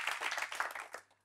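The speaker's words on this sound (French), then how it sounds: "On les applaudit très fort." Studio audience applause for guests on a French-language TV talk show, a brief burst of clapping that thins out and fades near the end.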